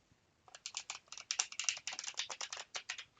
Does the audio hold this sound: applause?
no